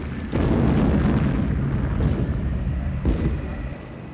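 Blast at a rock mine: a sudden, loud explosion followed by a long rumbling roar that stays dense for several seconds, with a second burst partway through before it fades.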